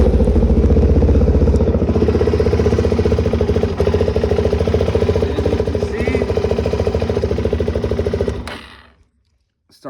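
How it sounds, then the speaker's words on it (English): A Suzuki DRZ 400 SM motorcycle with a leak idles close by in a loud, steady, chugging rumble for about eight seconds, then cuts off abruptly into silence. "I'll start the bike."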